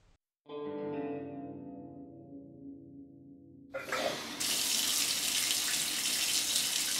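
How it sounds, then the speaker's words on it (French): Water from an upstairs neighbor's shower rushes through building pipes, a muffled flow that swells into a loud, steady broadband gush. "Il va dans son coin douche. Comme d'habitude, ça coule chez nous."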